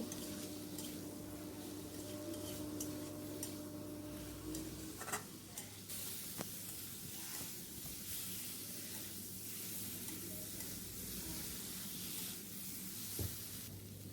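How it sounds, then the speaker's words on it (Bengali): Fried drumsticks, potato and papaya being sautéed in a pan for a fish curry, giving a soft continuous sizzle with occasional utensil scrapes and clinks, fairly quiet and without voices. "এবার এতে আমি ভেজে রাখা সজনে ডাঁটা, আলু আর পেঁপেটা দিয়ে দিচ্ছি, দিয়ে ভালো করে আমি কষিয়ে নিচ্ছি।"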